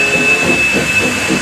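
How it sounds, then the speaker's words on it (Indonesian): A toy steam train gives off a short burst of loud hissing steam with a soft rhythmic chuffing and a thin steady whistle-like tone, heard close and without voices. "kereta api uap."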